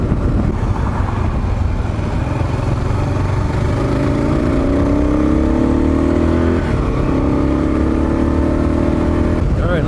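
A Kawasaki KLR 650 motorcycle ridden on freshly fitted tires: a loud, close single-cylinder engine drone under wind rush, with rising revs as it accelerates through the gears, then a brief dip and climb again.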